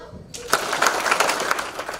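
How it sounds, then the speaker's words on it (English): Audience at a student innovation award ceremony clapping in unison, a burst of sharp claps starting after a brief quiet moment, fairly close and loud, with some scattered claps and crowd noise following. "When I say clap, you clap 3 times."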